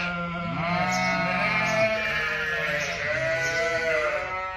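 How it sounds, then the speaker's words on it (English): A flock of sheep in a barn bleats noisily in reaction to a tractor, many overlapping calls of varied pitch forming a dense, continuous chorus that stays loud and close. "when the sheep hear the tractor, they make a lot of noise"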